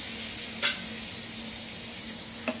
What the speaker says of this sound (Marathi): त्यानंतर मी हे टोमॅटो घालतेय